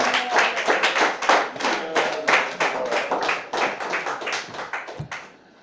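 A church congregation at a midweek worship service in Treichville claps in acclamation of God, a dense run of loud, steady hand claps close by that fade near the end.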